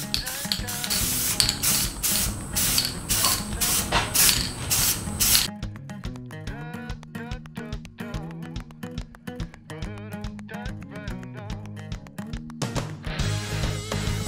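Spray paint misting a base coat onto a rifle in bursts of hissing spray, rapid pulses first, then short intermittent spritzes with scraping and rubbing handling noises, and a final sustained hiss.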